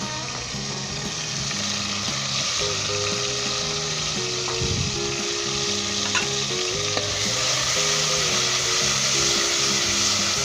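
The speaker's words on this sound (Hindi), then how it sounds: "तेल गरम हो गया, ये सारे इसके अंदर डाल दें।" Chopped vegetables hit hot oil in a pan for besan dal and keep up a steady, dense sizzle for the whole stretch, with tuneful music playing over it.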